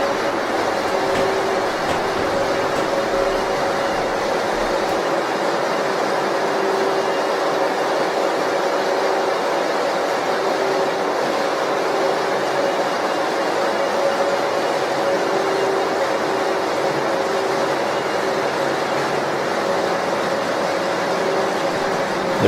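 A Cooper-Bessemer GMV-10 gas engine driving a two-stage propane compressor runs with a dense, continuous mechanical roar and faint steady tonal hum, loud and unbroken throughout, with no voices.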